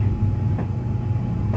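A limited express Shiosai train pulls into Chiba Station, a steady low rumble and rolling rail noise close by, with faint clicks of wheels over track joints and no talking.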